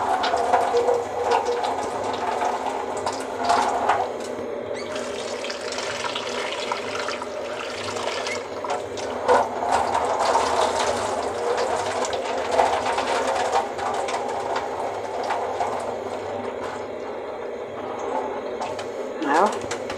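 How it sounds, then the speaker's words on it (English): Soaked rice is washed in water for carrot rice, with running and sloshing water and grains swirled around a bowl, a steady, fairly loud wash of sound throughout. "So I'm going to wash the rice and add it there"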